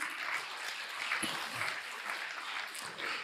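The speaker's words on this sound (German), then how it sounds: "Also da kann man wirklich klatschen." A seminar audience applauds in a hall, a continuous bed of many hands clapping at steady volume without pause for a few seconds.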